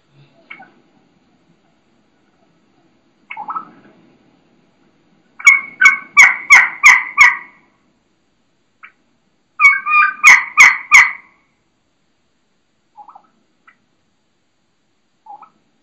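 A wild turkey hen yelps in two loud, rapid bursts of raspy notes, with a few softer isolated clucks before and after in an otherwise quiet setting.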